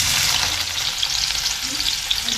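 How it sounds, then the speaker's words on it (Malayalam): Shallots frying in hot coconut oil in a pan, a dense, loud, continuous sizzle heard up close without pause for a couple of seconds. "എണ്ണ ചൂടായി. ഇനി നമുക്ക് ചെറിയുള്ളി ഇടാം."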